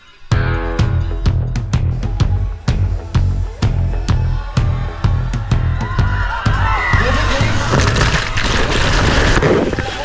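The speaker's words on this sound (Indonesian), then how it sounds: "tiba-tiba ombak besar setinggi hampir 4 meter datang menerjang" A large ocean wave nearly 4 meters high crashes onto a beach, a loud broadband rushing roar that swells in the final seconds after rhythmic dance music, with wind buffeting the microphone.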